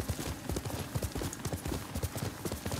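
A horse trots across open ground in Ghost of Tsushima, its hooves sounding a steady, close clip-clop rhythm throughout with no pauses.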